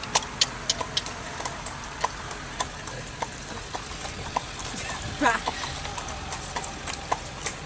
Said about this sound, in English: this is Mary the horse.